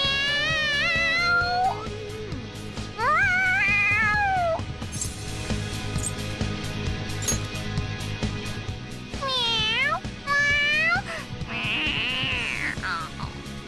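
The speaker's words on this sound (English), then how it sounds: "The cat's acting awfully excited." A cat character in the video game Persona 5 Royal meows excitedly in several drawn-out, rising and falling cries, loud and close, over steady game background music.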